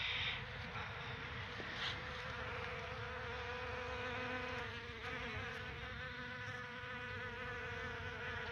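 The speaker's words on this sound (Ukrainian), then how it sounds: "бджілки працюють" Bees hum and buzz steadily around a path of flowering primroses, a soft continuous droning with overlapping wingbeat tones, faint and fairly distant, with no talking.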